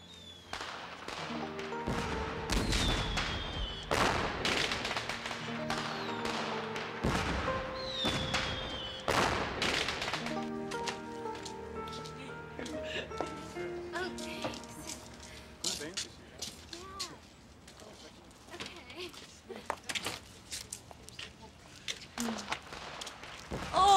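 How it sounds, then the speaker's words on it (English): Fireworks bang and crackle in a string of sharp bursts, loud at first and thinning out, with voices talking through the later stretch. "Oh, fireworks!"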